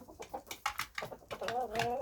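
Chickens cluck close by in quick, overlapping bursts, with a few drawn-out, wavering calls toward the end.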